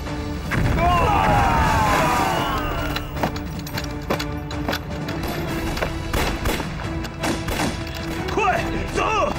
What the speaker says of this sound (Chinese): 手雷。